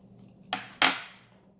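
A spoon clinks against dishes in a kitchen while an octopus salad is prepared, two sharp metallic clinks, the second louder and ringing briefly, with no talking.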